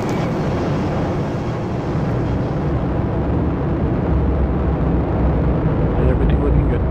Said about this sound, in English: Atlas V rocket carrying USSF-51 for the United States Space Force